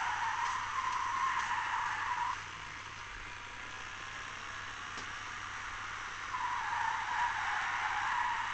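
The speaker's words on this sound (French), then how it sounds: "Et encore un dérapage." Car tires skid and squeal in the racing video game Need for Speed Shift on PSP, a loud sustained screech that eases off midway and then returns, over steady engine roar with no talk.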